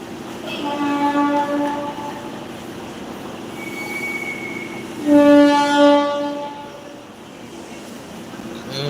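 A train rolls past with loud, sustained wheel squeal and screeching metal tones, swelling louder midway, with rumbling rail noise throughout.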